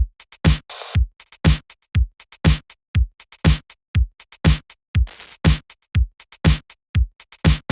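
Electronic drum pattern with punchy kicks, crisp hi-hats and two effect samples used as percussion, looping in a steady, tight rhythm at close range with no talking.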